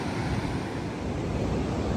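Surf rolls in at Newcastle beach in a constant broad roar, mixed with buffeting wind on the microphone, loud and close with no voices.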